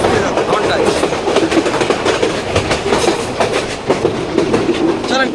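The Dolonchapa Express rolls along rails in Bangladesh with continuous clickety-clack of wheels over joints and a steady rumbling carriage noise, close and loud throughout, with faint voices mixed in.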